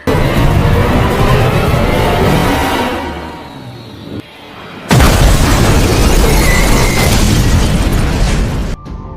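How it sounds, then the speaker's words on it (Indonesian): A car pushed into a ravine explodes in a scene from the film Transporter 3: a loud, sustained roar with heavy rumbling and debris, fading briefly before a second violent burst of blasting noise takes over. "Dia mendorong mobil mereka hingga masuk ke jurang dan meledak"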